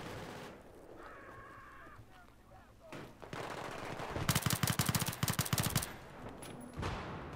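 Rapid automatic gunfire in the video game Battlefield 3 on the Grand Bazaar map, a loud burst of closely spaced shots lasting a couple of seconds after quieter game ambience, with a few single shots scattered around it.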